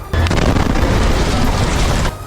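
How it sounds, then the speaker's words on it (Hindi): A loud, dense roar of explosions from an Israeli army airstrike on a house in Gaza, one continuous rumbling blast lasting about two seconds, heavy and low, with no talk over it. "जिसमें एक के बाद एक कई तेज धमाके होते दिखाई दिए"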